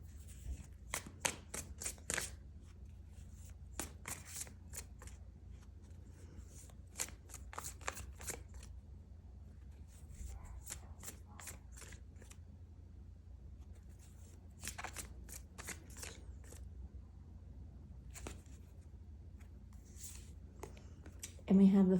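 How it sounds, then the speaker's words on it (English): Tarot cards are shuffled in clustered bursts of sharp flicking snaps, heard close and fairly quiet against a low steady hum, with short pauses between the bursts and no talking. "I'm going to pull one more card to act as an advice card."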